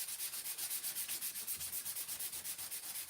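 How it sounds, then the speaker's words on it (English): Steady back-and-forth sanding of a laser-cut sign frame, a soft rhythmic scratchy rubbing repeated about every fifth of a second, close and quiet. "we are going to sand this also"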